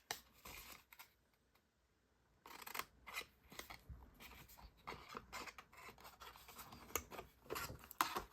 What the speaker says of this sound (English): We're going to cut off this longer piece, and then we'll cut off this shorter piece